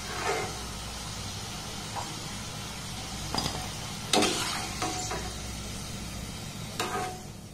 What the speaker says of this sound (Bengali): গ্যাসের ফ্লেমটাকে লো টু হালকা মিডিয়াম দিয়ে এগুলোকে আমি একটু লাল লাল করে ভেজে নেব।